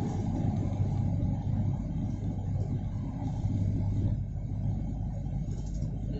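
Strong typhoon wind buffets a car on the move near Buenavista during Typhoon Dante, heard as a steady, loud low rumble and broad roar with a faint engine drone underneath, continuous throughout with no talk.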